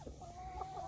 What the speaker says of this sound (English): Chickens must be hungry. They're following me everywhere.